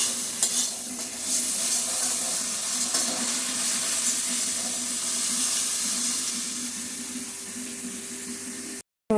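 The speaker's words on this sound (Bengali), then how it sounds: "এখন আদা রসুন বাটাটা দিয়ে দিচ্ছি, দিয়ে আবারও পেঁয়াজটার সাথে ভালো করে মিশিয়ে ভেজে নিচ্ছি।" Ginger garlic paste fries together with onion paste in a pan, producing a steady, dense sizzle with faint stirring scrapes, continuous and fairly loud, before a sudden cutoff near the end.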